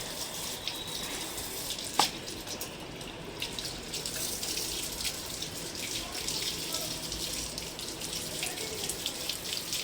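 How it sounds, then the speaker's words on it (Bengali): Water splashing in a bucket while a dog is bathed, a steady close wash of running and sloshing water throughout with one brief louder splash early on. "লুচিকে আমি বালতির জলে চুবিয়ে দেবো"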